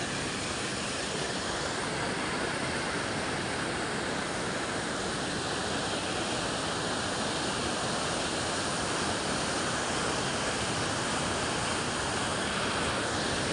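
Water pours steadily through a small stock dam beneath a narrow one-lane bridge, a continuous broad rushing roar with no pauses, loud and close from start to finish.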